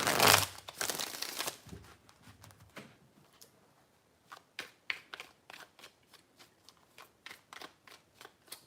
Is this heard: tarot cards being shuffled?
yes